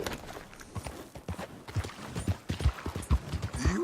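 Horse hooves in Red Dead Redemption 2 clopping at a steady walking pace, fairly faint and close, a soft rhythmic series of hoofbeats with no speech over it.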